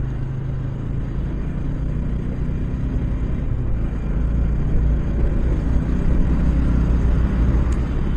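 A car speeds along a road while overtaking traffic on a trip to Cumilla, heard as a steady low engine and tyre rumble close by throughout, swelling slightly louder toward the end.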